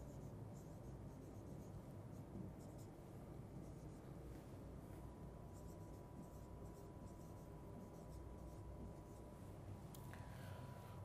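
Pen writing out a sentence during a grammar lesson, a steady, continuous scratching over a constant background hiss, with no voices.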